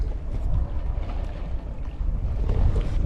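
An Allied Princess 36 sailboat moves through light air off Mount Desert Island, Maine, with a steady close rush of wind and water against the hull and low gusty rumbling, no voices.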